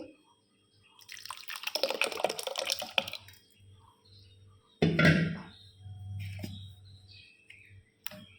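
Milk poured over ground parboiled rice that soaked overnight makes a close, quiet splashing pour for about two seconds, then a few shorter wet bursts.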